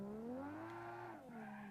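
A car engine in BeamNG Drive during a randomised autocross run revs in a smooth, rising and falling drone, climbing in pitch, easing off briefly, then holding steady, close and clear with no talk.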